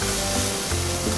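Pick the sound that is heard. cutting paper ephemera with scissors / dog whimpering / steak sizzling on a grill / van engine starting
steak sizzling on a grill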